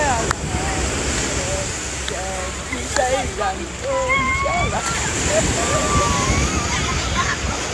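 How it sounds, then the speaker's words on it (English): Ocean surf washes steadily onto a Maryland beach, a continuous broad rush of breaking waves with people talking nearby over it. "I enjoy the waves from the beach and the water"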